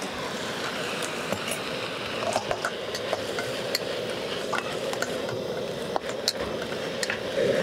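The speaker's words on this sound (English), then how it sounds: "We're gonna throw everything in here and cook us up some fried rice, camp style." Fried rice is stirred and scraped in a wok over a Coleman 4-in-1 camp stove. A continuous, close sizzle runs under scattered light clinks of the utensil against the pan.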